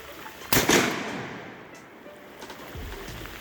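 A Century Arms C39v2 AK47 rifle fires a single sharp shot outdoors, loud and close, then the sound trails off into rumbling open-air ambience with no talk.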